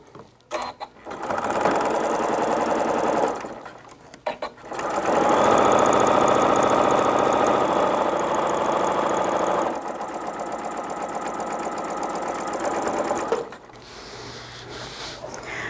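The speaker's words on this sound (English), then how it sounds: "So we're just going to do a 1/4 inch seam." Sewing machine with a patchwork foot stitching a quarter inch seam on a fabric table runner, several steady motor-driven bursts of rapid stitching separated by brief pauses.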